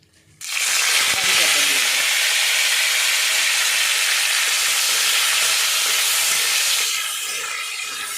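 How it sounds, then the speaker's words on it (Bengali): Ghee added to hot oil in a pan while making chiura pulao sets off a loud, steady hiss of sizzling that holds for several seconds, then eases slightly near the end. "এর মধ্যে তেলের মধ্যে একটু ঘি দিয়ে দেবো"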